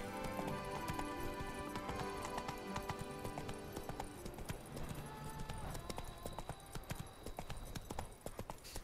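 Geralt's horse Roach trotting in The Witcher 3, hooves clip-clopping in a steady rhythm under music and ambient sound.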